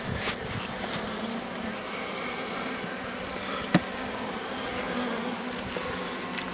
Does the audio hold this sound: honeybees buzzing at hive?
yes